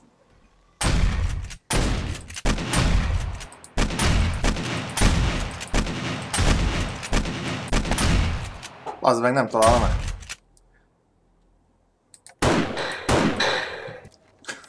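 Repeated echoing rifle gunshots in the survival game 7 Days to Die, loud bursts of fire with reverberant tails over several seconds, interrupted by a player speaking, then a brief pause before more shots.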